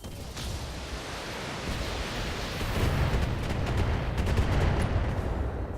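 Heavy weapons fire from a giant mech in a Battletech battle, a dense roar of overlapping blasts that swells louder in the second half and holds steady without pauses.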